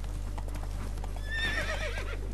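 Geralt's horse Roach in The Witcher 3 game: hooves clip-clop steadily, then a loud, wavering neigh rises over them partway through, with a low constant hum underneath.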